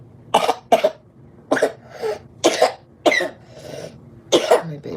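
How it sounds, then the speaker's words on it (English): A young boy coughs repeatedly in short harsh bursts, about seven coughs spaced across a few seconds, close and loud with no talking. "Kailani's cough is gone, but now he's coughing."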